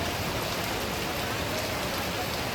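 Heavy rain pours onto a shopping street during the Vinayaka Chavithi festival, a dense, unbroken hiss close by, with no talk heard over it.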